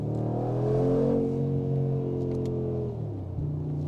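A Brabus 700 HP G-Class based on the G63 AMG revs hard with a deep, loud exhaust roar that rises and holds, then drops off as the revs fall, with a few pops at the end.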